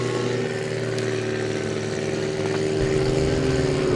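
A BMW Z4 hillclimb race car powered by a big LS V8 engine runs at a Cape Town hillclimb, a loud sustained engine drone with a steady low tone that holds close throughout.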